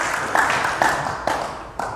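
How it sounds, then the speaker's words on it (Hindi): An audience gives a round of applause for the sage at an Arya Samaj gathering, a dense steady clapping that swells in a few bursts over about two seconds, fairly loud and with no talk on top. "अरे ताली बजाकर ऋषि को एक बार ताली देंगे भाई"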